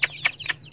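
An Aseel rooster indoors gives four quick, close clucks in an even rhythm, each short and bright, with a faint low hum underneath.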